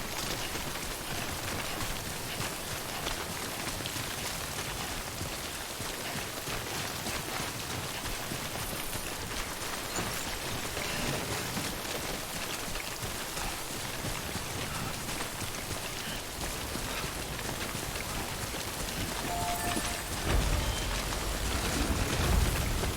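Rain falls in the Death Stranding video game, a dense, steady hiss of drops on surfaces that stays even for the whole stretch and swells slightly at the end, with no speech.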